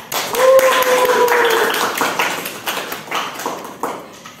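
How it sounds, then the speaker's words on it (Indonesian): A voice rises briefly, then a small classroom group of students gives scattered, light claps for a classmate after her presentation, fading into a few sparse taps. "tepuk tangan dong untuk Lala"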